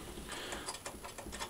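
Hand-turned thumb screws are tightened on a Larkooler watercooling kit mount, making a soft, rapid ratcheting, clicking scrape that is faint and close, with no voices.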